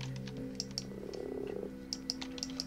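Frogs croak in a video game: a short rattling croak over a low electronic hum, mixed with sharp scattered clicks like keyboard taps, all fairly faint.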